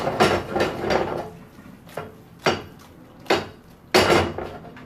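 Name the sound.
gnocchi added to pan with tomato sauce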